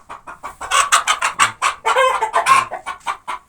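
Busy turkeys clucking and chattering close by in a farmyard, a steady run of short rhythmic calls with no pauses.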